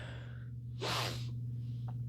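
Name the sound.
sneeze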